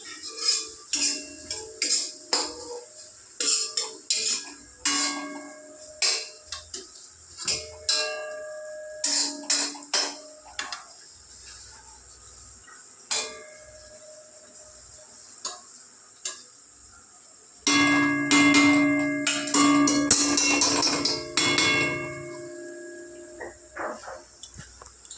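Husband cooking in a home kitchen, with sharp clinks and taps of pots, utensils and metal tools scattered irregularly across the scene, plus a louder stretch of clattering and a steady hum near the end; no talking.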